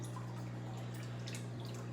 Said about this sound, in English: The water is running out of the drain from the planter, going back into the fish bowl